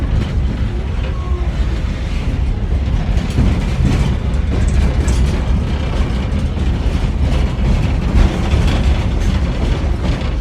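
A ride on the Rockline Railroad train makes a loud, continuous rumble with rhythmic clickety-clack and rattling of the carriages, heard from on board with no talking.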